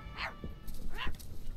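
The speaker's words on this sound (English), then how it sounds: "Oh, is all you do bark at me?" Two sharp, high yipping barks come from a stitched-together dog creature in the video game My Friendly Neighborhood, close and fairly loud over low game ambience.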